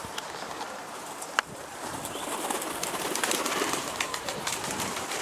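Pigeons mingle in a flock outdoors, soft cooing and faint chirps over a steady airy background, with a sharp brief flap or knock near the start.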